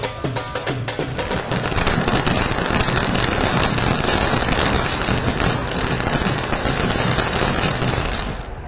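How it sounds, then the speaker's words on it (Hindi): Fireworks set off at street celebrations in Indian cities after an election win: dense, continuous crackling and popping bursts, loud and sustained for several seconds. "कहीं लड्डू बांटे गए तो कहीं आतिशबाजी हुई।"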